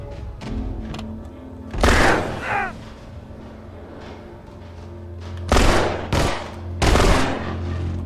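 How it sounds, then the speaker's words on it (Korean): Ellie's gun in The Last of Us fires several loud, sharp shots at irregular intervals, each a sudden crack that decays quickly, over a low background hum. "엘리도 이제 총 쏜다"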